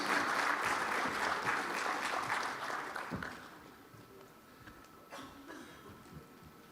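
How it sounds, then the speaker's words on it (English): Audience applause for a speaker at a Global Capability Center conclave, broad clapping from a seated crowd that is strong at first and thins out after about three seconds into scattered claps and room noise. "round of applause for our speaker as well as the fellow RCMs"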